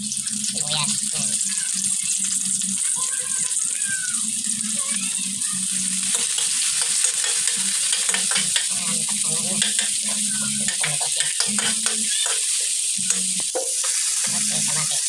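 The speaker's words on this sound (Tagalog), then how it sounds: "Kailangan maluto ko na yung bawang para mabango" Garlic and onion frying in a pan with a steady, close sizzle and stirring scrapes throughout, while a voice talks intermittently over the cooking.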